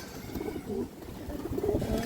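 A khaki female baagha pigeon coos softly in a few low, rounded murmurs, close by and fairly quiet over a faint background hum.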